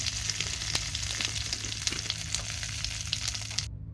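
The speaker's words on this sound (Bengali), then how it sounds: "ওই সবজি ভাজা তেলের মধ্যেই পাঁচফোড়ন, তেজপাতা, শুকনো লঙ্কা ফোড়ন দিয়ে দিয়েছি," Panch phoron, bay leaves and dried red chillies crackle and spit in hot oil, a dense, lively sizzle with sharp pops, close up, cutting off abruptly at the end.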